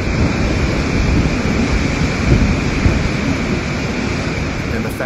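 Hurricane Sally storm with steady, loud, dense rain and rumbling thunder, a continuous roaring wash without a break.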